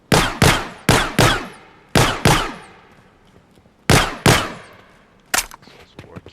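Gunfire from a weapon in an Unreal Engine 5 third-person shooter demo with a cover system: loud, close shots fired in quick pairs, several separate bursts with short pauses between them, no talk.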